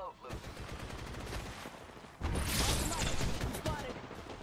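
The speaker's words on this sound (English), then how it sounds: "I am taking fire, friends." Dense, rapid gunfire rattles through an Apex Legends match, with continuous automatic bursts growing louder and heavier halfway through, and a voice talking faintly over it.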